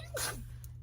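A single quick sneeze, brief and close, with a sharp burst that fades into quiet room noise.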